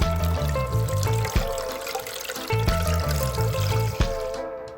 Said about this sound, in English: Pour in 5 cups of water.